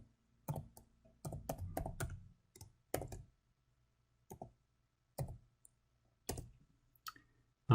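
Typing on a computer keyboard while entering a folder name, heard as short bursts of close clicky keystrokes separated by pauses, with no talk.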